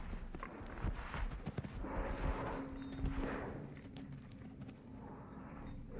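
Horse hooves thud in a rapid, uneven rhythm as the horse approaches a jump fence, close and moderately loud over a rumbling outdoor background.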